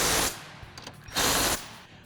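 A power tool, likely an impact gun, runs in two short bursts of about a quarter to half a second each while bolting KW coilovers onto a Camaro's strut towers, loud and close with a pause between.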